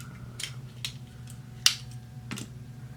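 A sharp blade cuts leather in several short, crisp strokes spaced apart, faint and close, with one sharper snip near the middle.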